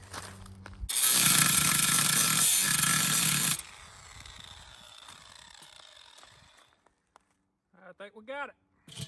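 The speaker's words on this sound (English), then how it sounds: "This is an angle grinder. I've got a DeWalt cutting blade on it." An angle grinder with a DeWalt cutting blade cuts through rusted metal on a Weber kettle grill, giving a loud, harsh, steady whine for a few seconds. It winds down into quieter handling noise, then a person briefly speaks.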